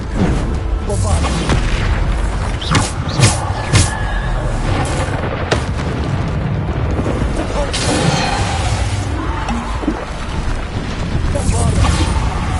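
Bombarda blasting spells in Hogwarts Legacy go off as repeated heavy booms and crashes over dense, loud game action, with a voice shouting spell names throughout.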